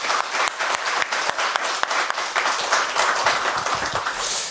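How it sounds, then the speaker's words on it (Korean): Church congregation claps to welcome first-time visitors during a Sunday morning service, a full, even roar of hands that holds steady throughout with little speech. "우리 처음 오신 분들이 박수로 한번 환영했으면 좋겠습니다."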